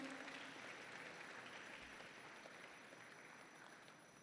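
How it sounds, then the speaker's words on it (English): Audience applause for performers at a school morning assembly, steady even clapping from a large group, fairly distant and slowly fading across the whole stretch. "Please give a huge round of applause to the performers, music team, and tech team this morning."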